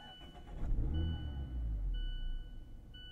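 A 2023 Mazda MX-5 Miata Grand Touring with a manual gearbox cranks and starts up close. The engine catches into a low, steady idle hum, with a faint electronic chime tone sounding over it.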